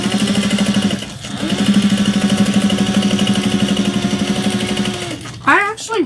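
Close, loud sewing machine runs steadily, stitching a seam on a tote bag of 10-ounce duck canvas, pausing briefly near the start and stopping near the end with a short burst of handling noise.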